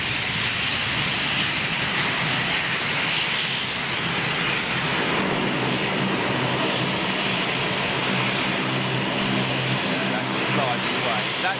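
A jet aircraft passes in a flyby, its loud engine roar filling the air throughout and shifting in pitch as it goes by. Voices are faintly present beneath the noise.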